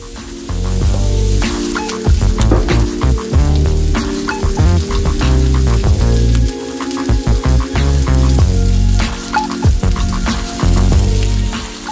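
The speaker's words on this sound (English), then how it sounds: "and minced garlic. I'm going to saute this for about 5 minutes." Minced garlic and onion sautéing in a hot pan, a loud, close, continuous sizzle and crackle with bursts of spattering and occasional stirring, no talking.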